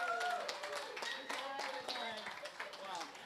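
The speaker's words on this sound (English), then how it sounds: "Round of applause." Light clapping from a small crowd right after an auction sale closes at a community World Tuna Day event, with scattered hand taps under overlapping voices and talk.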